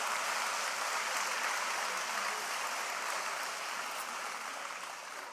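An audience applauds at a New Year's greetings ceremony in France, a dense, steady wash of clapping at fairly close range that slowly tapers off toward the end, with no speech over it.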